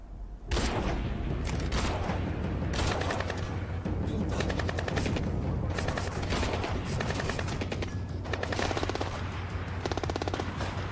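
Sustained machine gun barrage fire from the video game Splinter Cell Blacklist, loud dense bursts of rapid automatic shots rolling continuously for the whole stretch with no pauses.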